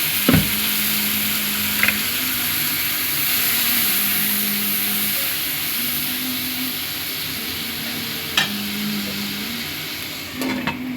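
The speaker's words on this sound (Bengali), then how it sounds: "ভালো করে কষিয়ে নিচ্ছি।" Cabbage and bori curry sautéing in a pan with water added, giving a steady broadband sizzle throughout, a low hum underneath, and a few brief clinks and taps of utensils against the pan.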